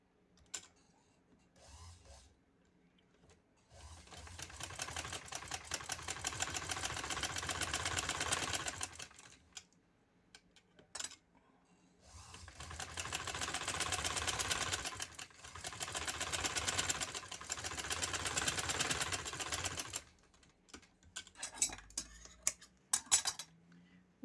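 A sewing machine stitches a kurti with red thread in close, quiet runs: two long whirring stretches of rapid needle clatter, with short stops and scattered clicks between them.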